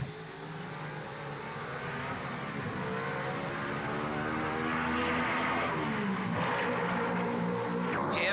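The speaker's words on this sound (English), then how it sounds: "The two Mercedes have closed right up now and proceed to give a fine demonstration of team driving, Moss not attempting to overtake Fangio." 1955 Mercedes Formula 1 race cars at the Monaco Grand Prix, two running nose to tail, with a steady engine drone that swells and rises in pitch as they approach and pass, loud and continuous with no talk.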